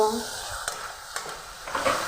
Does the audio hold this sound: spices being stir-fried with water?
yes